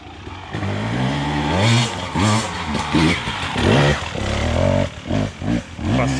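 An enduro motorcycle engine sputters and revs unevenly nearby, stalling and restarting in rough bursts, loud and close without speech.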